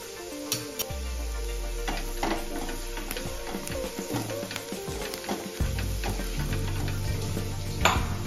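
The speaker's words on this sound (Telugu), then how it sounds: "కొంచెం కొత్తిమీర వేసి అది కూడా ఫ్రై చేసేస్తున్నాను" Curd masala with turmeric and chili frying in a pan, with a close, steady sizzle broken by clinks and scrapes of a spoon stirring against the metal.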